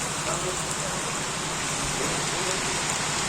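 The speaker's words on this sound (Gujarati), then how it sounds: "ત્યાં વરસાદ ચાલુ થઈ ગયો" Steady rain falls, a constant hiss of drops pattering on surfaces nearby, with no voices.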